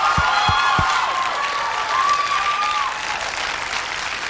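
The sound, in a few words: audience clapping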